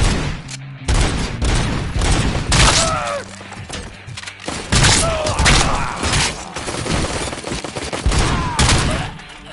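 Loud, dense gunfire in the video game RoboCop: Rogue City, rapid volleys of shots with thuds and impacts, near and continuous throughout, with voices faintly under the shooting.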